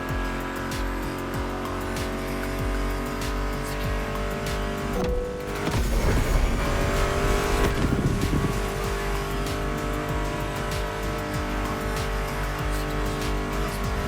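Racing cars in The Crew Motorfest roar continuously over a music track, with sustained engine drone, brief revving and tire squeal around the middle, loud and steady throughout.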